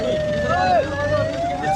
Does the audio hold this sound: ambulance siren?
yes